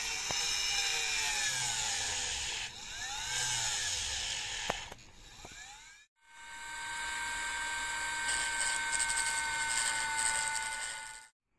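A steady high-pitched whine of a small rotary drill grinding into a carnelian agate stone for a ring, with a brief pause midway before it resumes, close and continuous.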